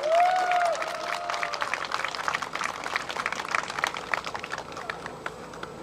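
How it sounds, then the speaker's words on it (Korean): Crowd applause at a Justice Party street campaign rally near Hwajeong Station, scattered clapping rising under a fading amplified voice and continuing at moderate, uneven loudness. "힘찬 박수를 부탁드립니다"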